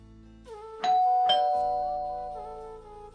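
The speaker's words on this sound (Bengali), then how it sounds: "ভেতরে গিয়ে বসা মাত্রই কলিং বেল বেজে উঠল।" A two-tone ding-dong doorbell rings indoors with two close chimes that leave a long, fading resonance, heard clearly with no other sound around it.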